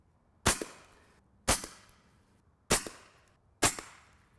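Four evenly spaced, sharp shots from a suppressed AirForce TalonP air rifle striking a pineapple, each a loud close crack with a quick secondary pop and a short fading tail, with no talking.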